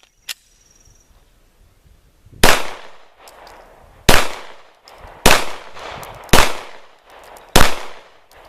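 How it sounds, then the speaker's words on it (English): Five loud firearm shots fired at a 10-inch target, sharp close cracks spaced about a second or so apart, each with a short decaying echo, following a faint click and quiet lead-in. "I'll be taking 5 shots at that 10-inch target."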